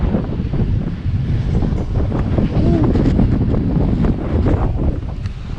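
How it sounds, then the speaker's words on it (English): Strong wind in Birkenhead Square, Merseyside, buffeting the microphone, a loud, constant low rumble with gusty roar and no talking. "Quite windy today,"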